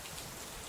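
Steady rain falling at night, a dense, even hiss of drops that stays constant through the short stretch with no voices.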